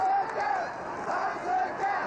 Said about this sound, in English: Look at the crowd going crazy.